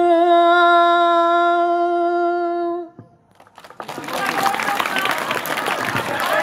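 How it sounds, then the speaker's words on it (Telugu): Audience applause at a live song performance: a sustained sung or played note ends, then after a short pause a broad, steady wash of clapping from a crowd rises and continues to the end. "బిగ్ క్లాప్స్ అన్న."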